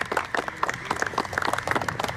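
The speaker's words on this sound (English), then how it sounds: "Round of applause." Audience applause at a school league cricket presentation ceremony, a crowd clapping steadily for a couple of seconds, dense and fairly close with scattered individual claps standing out.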